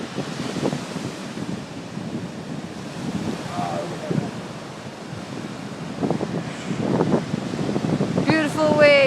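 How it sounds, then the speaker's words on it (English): Choppy ocean waves break on the shore at Westerly after Hurricane Sandy, with constant wind buffeting the microphone and surf rumbling throughout; voices talk faintly beneath. "Beautiful waves."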